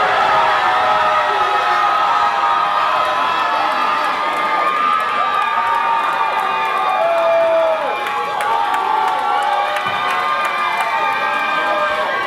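A concert audience cheers and screams loudly and continuously at a church-style gospel event, a dense wall of crowd noise with shouting voices throughout.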